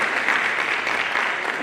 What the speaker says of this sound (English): So a big round of applause for dads.